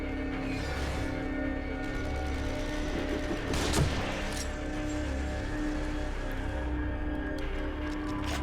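Gunfire in The Evil Within, a sniper rifle among the weapons, with a sharp report standing out near the middle against a steady, humming game backdrop and a few fainter shots toward the end.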